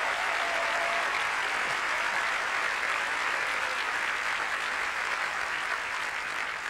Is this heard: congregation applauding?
yes